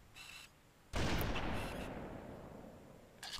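Gunfire in the video game Halo: one loud, sharp blast that decays into a long rumbling tail, with fainter game sounds before and after it and no speech.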